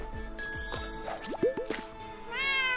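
Several short cat meows with bright chiming tones and a tinkling jingle from the video game Dr Cares: Pet Rescue 911, clean and synthetic-sounding, no talking.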